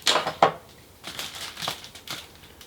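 Cardboard and plastic packaging of a Hot Toys Superman figure box from Batman v Superman: Dawn of Justice being torn and opened, with a few sharp crinkling rips up close, then softer rustling handling.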